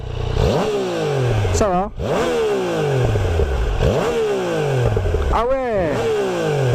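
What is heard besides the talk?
Yamaha Niken 900 motorcycle engine revving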